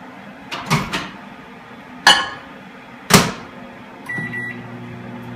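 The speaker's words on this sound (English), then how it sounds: "we're gonna pop this in the microwave for 60 seconds" A microwave oven is loaded to heat eggs in a greased mug: several sharp clunks and a door slam, then a short run of beeps before the oven's low steady hum starts.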